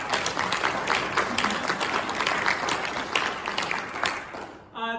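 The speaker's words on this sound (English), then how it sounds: "So let's give her another round of applause." An audience in a school theatre claps in a sustained, dense round of applause at moderate distance, fading briefly near the end.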